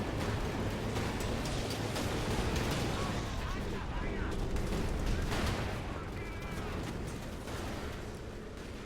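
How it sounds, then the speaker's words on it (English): Light artillery barrage in the video game Company of Heroes 2, a dense wash of rumbling blasts and crackling fire over the whole stretch, with a commentator talking over the battle. "They're using a light artillery barrage, I assume."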